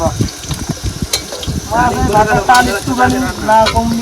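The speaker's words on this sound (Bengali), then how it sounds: "এই তো কত করলে এই আলু ভাজা কমপ্লিট" Potatoes sizzle and crackle as they fry in a pan, a steady hiss running under people talking, with scraping or stirring noises close by.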